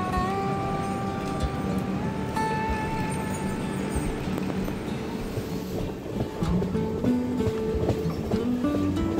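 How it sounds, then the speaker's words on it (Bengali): Howrah to SMVT Bengaluru superfast express train running into Krishnarajapuram station, with steady rumbling wheels, clattering carriages and faint squeals throughout, heard from inside the coach. "ট্রেন এরপর কৃষ্ণরাজাপুরম অর্থাৎ কেআরপুরমে ঢুকে গেছে"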